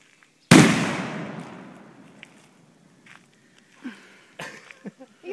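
A single sharp firecracker bang rings out nearby and decays slowly, followed by a few faint pops and scuffs.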